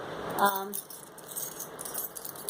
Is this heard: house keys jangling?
yes